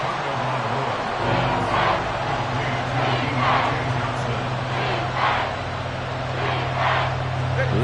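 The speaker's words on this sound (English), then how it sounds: "This crowd doing all they can." A stadium crowd roars steadily in a Steelers vs Seahawks football video game, loud and continuous, with swelling cheers under play-by-play commentary.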